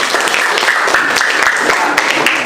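A class applauds a presenting student group after its poster mind-map presentation: dense, steady clapping fills the whole short stretch, loud and close.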